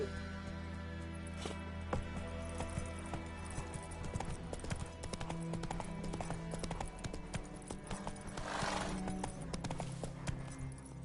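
A horse gallops in The Witcher 3, steady rhythmic hoofbeats drumming close and continuous over a soft game backdrop.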